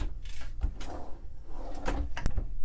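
Drawers in a cruise ship stateroom slide open and shut in a few short, soft knocks and scrapes, fairly close, with quiet room noise between them.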